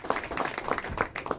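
An audience gives a strong round of applause for a guest at an event, a brief burst of scattered hand claps, fairly quiet and uneven.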